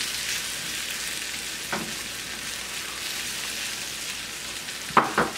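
Spinach sizzles steadily in a hot pan, a close, even frying hiss, with a couple of brief knocks of tongs stirring near the end.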